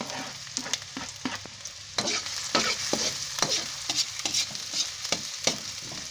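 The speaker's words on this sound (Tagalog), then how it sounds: "Na yung sibuyas, gigisa na natin." Onions for shawarma sauté in a very hot pan, a close crackling sizzle broken by repeated scraping and knocking strokes from a spatula stirring them. No voices.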